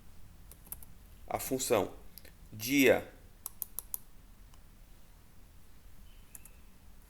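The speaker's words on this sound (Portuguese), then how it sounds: "a gente vai digitar aqui, ó, igual" Computer keyboard typing an Excel formula, heard as short bursts of close key clicks between stretches of Portuguese talk.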